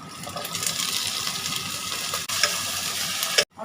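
Potatoes are added to hot oil with lightly fried onion and chopped ginger, and they sizzle loudly up close while being stirred and scraped, with a brief break and a sharp clatter near the end.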